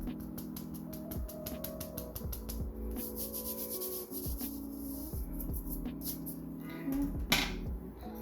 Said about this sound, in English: I'm gonna go ahead and sieve the custard powder.